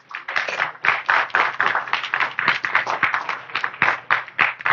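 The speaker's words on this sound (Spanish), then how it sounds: "Le damos un aplauso, Señor. Venga, bien alto." A church congregation claps together in a steady, rhythmic beat, the fairly close, even bursts of hand claps continuing throughout with no voices over them.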